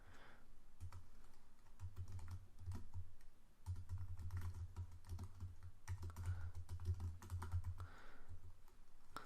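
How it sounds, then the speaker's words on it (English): Steady typing on a computer keyboard, rapid clicking keystrokes in bursts with brief pauses, close and fairly quiet, no voices. "type what I'm typing in your playground."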